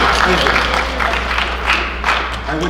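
Audience applause at a college counseling kickoff evening for junior families, dense steady clapping from a room of parents with a low hum underneath, mixed with crowd murmur.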